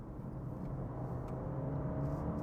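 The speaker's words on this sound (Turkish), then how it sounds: "Bakın hemen şurada bir gazlayayım hemen. Sport alalım bakalım fark ediyor mu çok." Honda ZR-V accelerating in sport mode, heard from inside the cabin as a steady low engine and road rumble with a faint rising whir, no talking.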